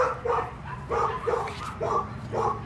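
A dog at the OC Shelter in Orange, California, barks steadily, with about six regular deep barks in quick rhythm against a murmur of background noise.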